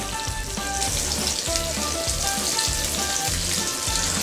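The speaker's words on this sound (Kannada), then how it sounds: "ಒಂದು ಕಡೆ ರೋಸ್ಟ್ ಆಗಿದೆ, ಇನ್ನೊಂದು ಕಡೆ ತಿರುವು ಹಾಕಿದ್ದೀನಿ ನಾನು" Fish frying on a hot tawa, a steady loud crackling sizzle of oil that runs evenly throughout with faint clinks of utensils and no talking.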